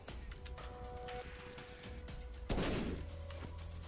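A bomb explodes in The Binding of Isaac: Rebirth with a single loud, booming blast partway through, set against busy game sound effects and music.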